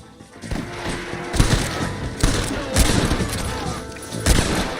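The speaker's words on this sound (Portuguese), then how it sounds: "Aí o cara já atirou." Gunfire in the Western video game Red Dead Redemption, a series of heavy booming shots spaced about a second apart with rumbling echoes, fairly loud and close.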